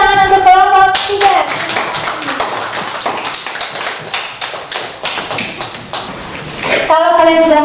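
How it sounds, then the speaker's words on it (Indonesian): A classroom of children applauding group 3 in a rhythmic patterned clap, loud and close, with a teacher's voice at the start and end. "tepuk tangan untuk kelompok 3"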